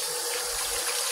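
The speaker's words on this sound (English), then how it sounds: "I'm trying to wash my hands and ow, the water was way too hot." Tap water, running very hot for handwashing, pours steadily from a faucet in a soft, even rush that stays constant and fairly quiet throughout.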